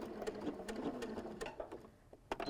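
A sewing machine back stitches along a quilt seam, running in a quiet, rapid, steady patter of stitches that eases off, followed by a couple of faint clicks near the end.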